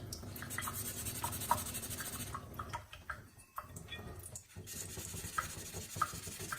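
A wheel rim being hand-sanded with 800-grit sandpaper, heard as close, rhythmic scratchy strokes with brief pauses and light taps, with no voices.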